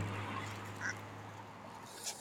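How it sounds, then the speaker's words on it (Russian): Ducks at a garden pond: faint, distant quacks and honks rise briefly out of a low hum and outdoor background, one short call near the start and another near the end. "Смотрите, вот там еще одна утка"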